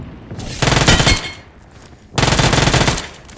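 Loud video game gunfire: two long bursts of rapid automatic shots, close and dense, separated by a short quieter gap, with no talking.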